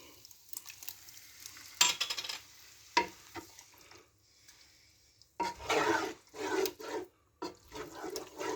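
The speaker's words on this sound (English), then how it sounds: "We're going to add the sauce." Tomato sauce with herbs poured and stirred into softened vegetables in a pan for a pasta broccoli bake, with wet stirring and sizzling bursts that grow louder in the second half.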